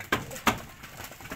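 Homer pigeons coo nearby in two soft, throaty calls close together, followed by quieter murmurs.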